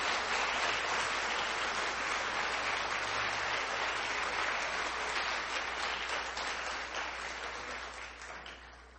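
Steady, dense applause from a large church congregation fills the room, continuing for several seconds before gradually thinning out toward the end.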